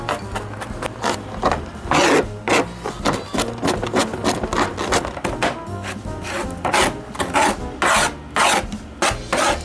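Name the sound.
knife finely chopping garlic cloves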